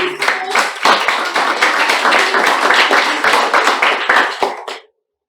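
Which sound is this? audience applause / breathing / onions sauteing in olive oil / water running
audience applause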